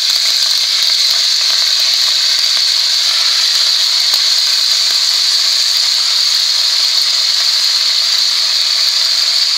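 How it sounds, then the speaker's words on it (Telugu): Curry leaves frying in hot oil in a pan for a Telugu chutney, giving a loud, steady, unbroken sizzle that holds evenly throughout. "కొంచెం నూనె వేసుకుని కరివేపాకు,"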